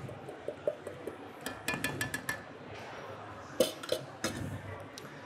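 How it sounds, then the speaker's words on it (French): Flour mixed with salt added to 200 g of butter in a stand mixer bowl: scattered clinks and knocks of utensils and bowl, a few sharper clatters, quiet background hum between. "Je vais mettre ma farine qui est mélangée au sel."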